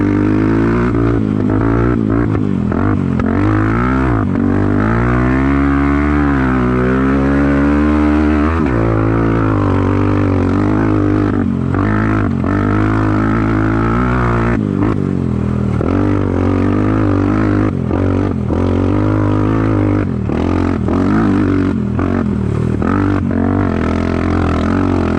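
A Kayo A300 ATV engine drones loudly and continuously while riding trails, with rising and falling revs, a sharp throttle climb early on and uneven bursts as the machine works over rough ground.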